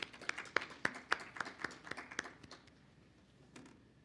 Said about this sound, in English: A round of applause for these two to get us started